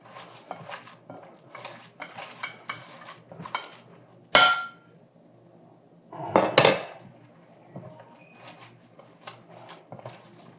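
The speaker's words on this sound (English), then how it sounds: "you just mix and mix and mix. That's what we're doing now." A spoon scrapes and clinks against a bowl while zesty beef turnover filling with salsa and pepper jack cheese is mixed, giving irregular taps and rubs with two louder clattering bursts, close by and without speech.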